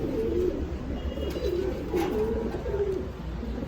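Fancy pigeons coo softly and repeatedly close by, low throaty calls rising and falling over a steady background hum.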